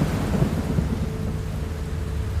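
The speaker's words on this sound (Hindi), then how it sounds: "एक रात वहां पर जोरों से बारिश हो रही थी।" Heavy rain pours steadily in a dense, continuous roar, with low rumbling thunder rolling underneath throughout, a stormy night backdrop for a horror story, no voices present.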